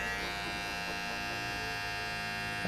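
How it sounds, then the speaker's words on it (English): An Andis electric hair trimmer cutting a woman's hair for a faux hawk gives a steady, continuous motor buzz and hum, close and even throughout, with no talking. "I'm going to use my trimmer"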